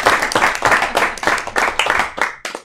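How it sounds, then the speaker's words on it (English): A small meeting crowd at a council special meeting claps in a round of applause, a brisk burst of close, overlapping handclaps that thins toward the end. "I think a round of applause."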